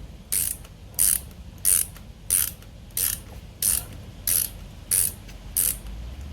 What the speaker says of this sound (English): it's turning fine with the ratchet